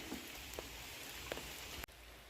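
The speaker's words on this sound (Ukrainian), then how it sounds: "А так звучить дощ у лісі. По деревах, по листочках тарабанить дощ." Faint, steady rain patters on leaves in a forest, a soft continuous wash of drops with no voices.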